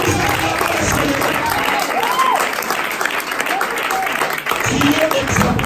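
A church congregation applauds and cheers in a dense, continuous wash of clapping with scattered shouts. A voice speaks over the crowd, and the noise eases briefly before swelling again.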